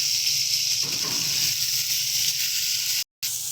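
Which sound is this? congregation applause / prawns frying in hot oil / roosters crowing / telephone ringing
prawns frying in hot oil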